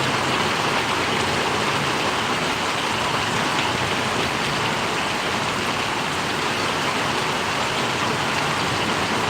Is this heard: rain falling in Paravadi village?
yes